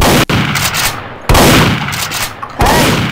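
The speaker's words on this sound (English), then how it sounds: "what are you shooting me for?" Gunshots in Garry's Mod DarkRP come as three loud, close bursts about a second apart, each a sharp crack followed by a decaying rattle.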